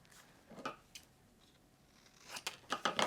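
Scissors snipping through a small offcut of paper to make a mat for a stamped motif, a few quiet close cuts at first, then a louder burst of quick crisp snips near the end.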